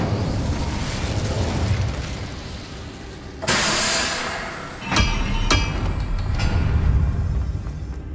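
A fire spell is cast in Hogwarts Legacy, a loud whooshing burst followed by a few sharp impact pops over steady background game noise.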